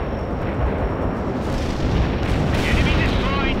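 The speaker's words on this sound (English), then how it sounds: "We are dropping our payload." A bomber's payload hits the ground in the World in Conflict war game, a thick, rumbling chain of overlapping explosions that swells slightly toward the end, loud and sustained.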